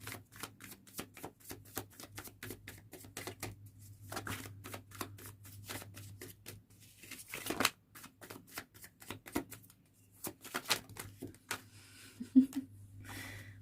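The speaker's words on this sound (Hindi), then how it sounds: "see, I'm shuffling in front of you, right?" Tarot cards being shuffled by hand, a series of crisp riffling and flicking bursts in irregular rhythm, close and clear over a low steady hum, with brief pauses between shuffles.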